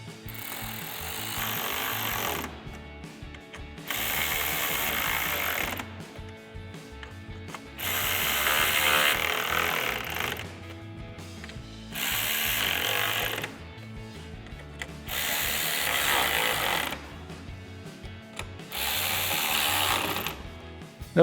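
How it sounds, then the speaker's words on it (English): A ratchet with an 8mm socket tightens the headlight bolts on a 2018-2023 Mustang in six bursts of rapid, close clicking, each lasting about two seconds and separated by short pauses, with no talking. "Now we'll tighten them all down using our 8mm socket."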